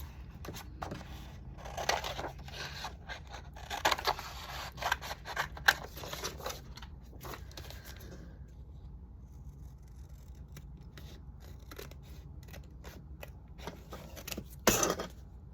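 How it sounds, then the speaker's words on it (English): Small scissors snip through paper for a junk journal, giving bursts of crisp cutting sounds at close range, with a quieter pause in the middle and more snips near the end. "Here's my littler scissors."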